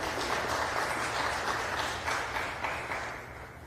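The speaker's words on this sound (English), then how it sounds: "let's give her a round of applause" Steady, full audience applause at a literacy showcase event, a continuous wash of many hands clapping at moderate loudness throughout, gradually easing slightly toward the end, with no speech over it.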